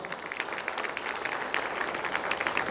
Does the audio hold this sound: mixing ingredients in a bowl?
no